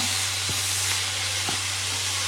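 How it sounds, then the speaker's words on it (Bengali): Bathua greens fry in a pan with a dried red chili tempering, giving a steady, close sizzle and hiss with faint clicks and no talking. "আর এই যে শাক ভাজি হচ্ছে"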